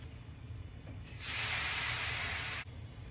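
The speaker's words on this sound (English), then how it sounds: "So now I will add a little bit water to that frying pan." Water hits a hot frying pan while cooking beef stew and erupts into a loud, steady sizzle that lasts over a second, then cuts off abruptly, with faint background hum.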